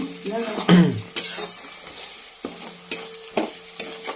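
Spice masala for a duck recipe being stirred and mixed in a frying pan: scraping spoon strokes and sizzling at close range, with several sharp metallic clinks of utensil against pan.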